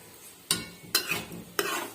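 Spoon scraping through mushroom curry in a pan, three distinct stirring strokes about half a second apart, close and fairly quiet, with a faint sizzle underneath and no voices.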